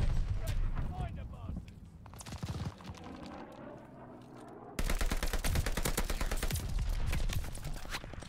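Rapid automatic fire from an STG44 assault rifle in the Call of Duty Vanguard shooter, bursts of dense, rattling shots running almost continuously and growing louder toward the end, under other game noise.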